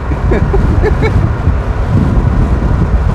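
A first-generation Tesla Roadster at high speed gives a loud, steady roar of wind and road noise throughout, with a brief faint voice early on.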